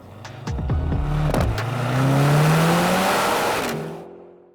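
Hybrid Mercedes C63 AMG with a four-cylinder engine pulling away hard, rising engine note climbing steadily through the revs, loud and close inside the car, easing off near the end with no talk over it.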